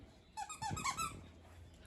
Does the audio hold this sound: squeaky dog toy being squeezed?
yes